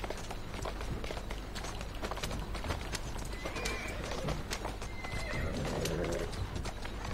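Horses in the video game Assassin's Creed Syndicate gallop with steady clip-clop hoofbeats and let out a couple of neighs, all fairly faint beneath a dense game soundscape.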